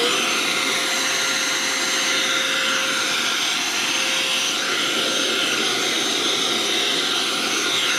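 A Vax Cordless Blade 32V cordless vacuum cleaner runs steadily at close range, a loud continuous whirring whine with a high airy hiss that holds constant throughout, with no talking over it.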